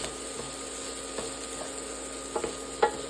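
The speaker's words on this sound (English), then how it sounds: "Now I'm going to put in some flaked almonds to toast up" A quiet, steady sizzle of flaked almonds toasting in a hot frying pan, with a few soft scrapes and taps as the contents are stirred.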